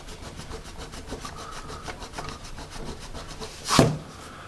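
A Magic Rub eraser with a soft core rubs back and forth on paper during a vintage Russian pencil test: steady, close scrubbing strokes in a quick rhythm, ending with one sharper, louder scrape.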